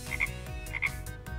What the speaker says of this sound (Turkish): Bir sürü kurbağa.